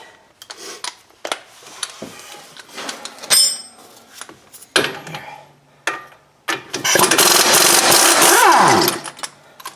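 A power tool, likely an impact wrench, removing strut bolts on a 2007 Ford Edge front suspension, heard as short bursts followed by a loud sustained run near the end, close up in a garage.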